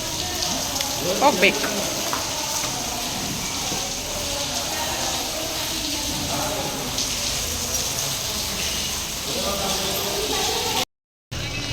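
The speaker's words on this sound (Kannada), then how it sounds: "ಮಳೆ ಅಂತೂ ಸಿಕ್ಕಾಪಟ್ಟೆ ಮಳೆ" Heavy rain pours steadily outdoors, a constant hissing wash throughout, while a voice speaks briefly over it near the start.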